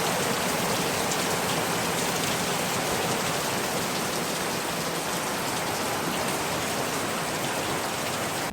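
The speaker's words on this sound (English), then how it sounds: "Yeah, it's pouring." Heavy rain pours down steadily and close by, a dense, unbroken hiss of drops on surfaces that holds at the same loud level throughout with no voices.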